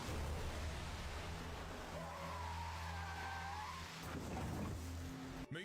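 A car skids and speeds in a horror thriller film scene, with a rushing, hissing tire squeal over a low engine rumble, steady and fairly distant-sounding throughout.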